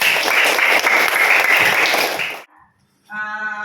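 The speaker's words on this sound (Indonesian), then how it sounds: "Ya, tepuk tangan supaya lebih semangat" Children clap together in a dense, lively burst for about two and a half seconds, then stop abruptly; after a short pause a single voice begins talking.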